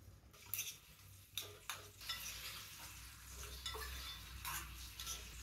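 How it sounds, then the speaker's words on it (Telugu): Cashews frying in ghee in a kadai, a soft continuous sizzle broken by several sharp scrapes and clinks of a spoon stirring against the pan, close and fairly quiet with no voices. "నెయ్యి వేస్తున్నాను, జీడిపప్పు వేస్తున్నాను"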